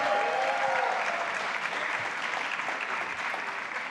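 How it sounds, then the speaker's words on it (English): An audience applauds a special guest at an event with Dr. AR Bernard and David C. Banks, a broad, steady roar of clapping that holds constant. A faint tone is heard briefly at the start. "so former Chancellor David C. Banks, can we get a round of applause"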